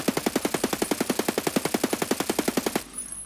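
Rapid automatic gunfire from a video game weapon, about two dozen evenly spaced shots in a steady burst lasting nearly three seconds, loud and close, then cutting off into a faint tail.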